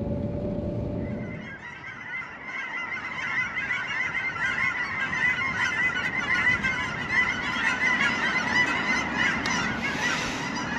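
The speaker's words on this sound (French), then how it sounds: "les oies sauvages fidèles au rendez-vous, comme tous les ans" A flock of wild geese honking continuously, many overlapping calls at moderate distance, with a low engine rumble from a 1940 Buick Limited fading out at the start.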